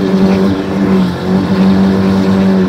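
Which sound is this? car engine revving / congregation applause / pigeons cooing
car engine revving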